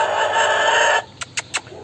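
A rooster crows loudly and alone for about a second, then three short, sharp clucks follow in quick succession on a farm where free-range chickens are being bred.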